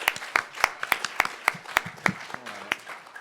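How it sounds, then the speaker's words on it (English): A small group at a climate change and public health session claps for speakers, individual hand claps distinct and uneven, fading as a few voices murmur underneath toward the end. "another round of applause for Ashley Ward and Shana Udvardy"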